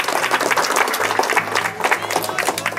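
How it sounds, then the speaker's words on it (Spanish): A crowd of parents and guests applauds the teacher at an outdoor preschool ceremony in Huehuetla, Puebla: steady, dense clapping held for a few seconds at moderate loudness, with faint voices mixed in. "Pues un aplauso para el maestro."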